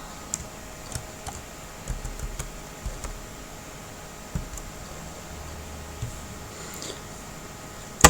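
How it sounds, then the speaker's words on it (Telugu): A password is typed on a keyboard as a series of light, irregular key clicks spread across several seconds, close and quiet with a faint hiss behind. "ఫండ్ పాస్వర్డ్ ఎంటర్ చేయాల్సి ఉంటుంది"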